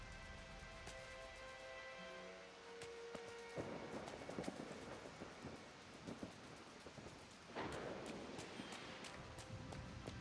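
Steady rain with rumbles of thunder in the Disney Dreamlight Valley video game, a continuous wash of rainfall with occasional louder bursts, heard alone without talking.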